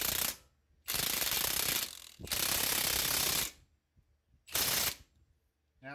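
A ratchet wrench tightens the nut on a Toyota Prius front strut in three long bursts of rapid clicking, loud and close, separated by short pauses with faint knocks.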